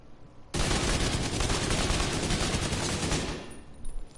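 An AK rifle firing body shots in the video game The Division 2, a loud, dense burst of rapid automatic fire that starts abruptly, runs about three seconds and then stops, followed by a few faint clicks.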